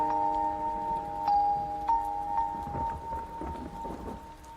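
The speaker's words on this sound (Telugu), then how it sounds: "వర్షం పడుతోంది" Rain falling in a dense, steady patter with faint rumbles underneath, heard over a sustained tonal hum, with no talk.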